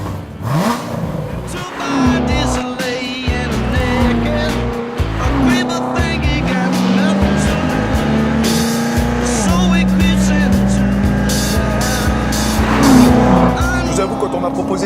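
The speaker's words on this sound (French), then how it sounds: "pour vous faire écouter le moteur, le son au démarrage, le V8" A Corvette Z06 V8 engine fires up and revs loudly, climbing and falling in pitch several times, close by, with a voice talking over it.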